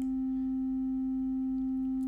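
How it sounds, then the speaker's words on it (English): A steady sine wave tone from an oscilloscope setup holds a single unchanging pitch with a faint higher overtone, continuous and quiet for the whole stretch with no voices. "So there's our little sine wave."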